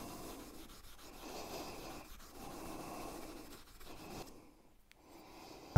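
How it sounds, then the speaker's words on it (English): Steel plane chip breaker edge rubbed hard back and forth on an abrasive surface, a continuous gritty scraping in repeated strokes, fairly quiet and close, ending abruptly. "And I'm going to rub like hell."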